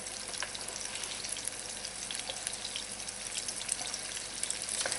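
Shrimp étouffée base sautéing on high heat in a pan, giving a steady, moderately quiet sizzle with faint crackles that runs unbroken for the whole stretch, with no voices.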